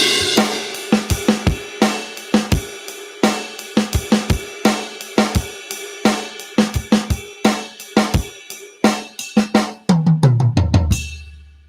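A drum kit plays a groove with snare hits placed between the hi-hat strokes: crisp, loud, evenly spaced strikes alone, closing with a low tom-like fill at the end.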